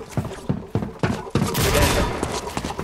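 Gunfire in Fortnite, a quick series of sharp, punchy shots followed by a denser burst of rapid fire and clattering, loud and close, with a player's voice faintly in the mix.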